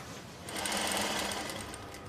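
A sewing machine runs steadily throughout, its fast mechanical stitching loud and continuous, with no talk over it.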